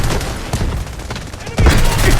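Gunfire in the mobile shooter Delta Force Mobile: rapid bursts of automatic shots crackle loudly, pausing briefly before a heavier, louder volley near the end.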